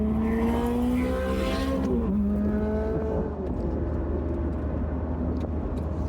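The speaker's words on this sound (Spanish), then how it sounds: "viene un Ferrari atrás mío" A Ferrari sports car approaches and drives past a person on a street, its engine a steady droning hum that shifts pitch midway as it passes, continuing at moderate volume against ongoing traffic noise.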